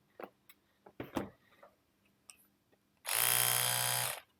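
An Oral-B Braun electric toothbrush switches on and runs with a steady, loud buzzing hum for about a second after some light handling clicks and rustles.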